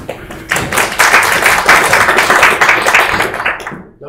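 An audience at an academic welcome ceremony claps for a keynote speaker being introduced, a dense, steady burst of many hands that swells quickly, holds loud and close for about three seconds, then trails off to near silence.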